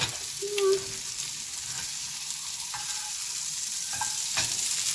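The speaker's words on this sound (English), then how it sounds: "if you make a crispy omelet, which means you have to let it cook for a bit" An omelet fries in a pan with a steady close sizzle, broken by a few short scrapes and clinks of a utensil, and no one talks.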